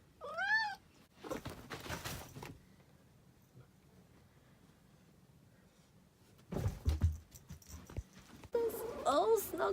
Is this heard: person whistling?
no